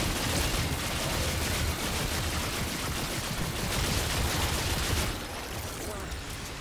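An automated turret in the shooter Remnant 2, fighting the Awakened Bloat King in the Losomn area, firing in a continuous dense roar of gunfire that runs for about five seconds before easing off.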